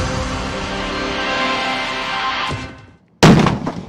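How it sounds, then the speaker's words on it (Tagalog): Explosions on a shoreline in Zambales opening a Philippine-Australian amphibious assault exercise, a long roaring blast rumble that fades to silence before a sudden, loud new detonation. "Mga malakas na pagsabog sa baybayin ang naging hudyat ng simula ng amphibious assault exercise"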